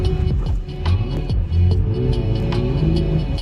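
A Porsche 911 S/T with a 4-litre engine revs hard, the pitch sweeping up and down in a few quick blips over a deep, throbbing rumble, close and loud.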